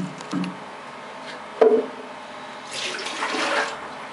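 Water is poured out of a cup into a sink while brushing teeth; a single knock against the cup comes first, then about a second of splashing, running water.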